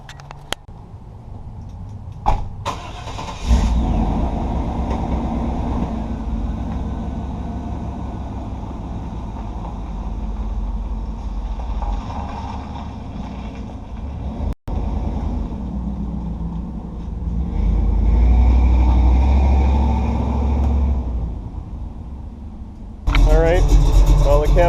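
A blue truck and a Chevy Nova are driven and moved around on a street, giving a continuous engine rumble with a brief sharp break partway through and a louder surge near the end.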